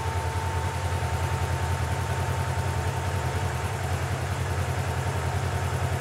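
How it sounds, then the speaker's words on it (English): A warmed-up Polaris RZR 900XP engine idles steadily with its cooling fan running, a constant low hum and throb held evenly at close range throughout. "Now just to show you that there's no pressure in the system, I'll fire it up."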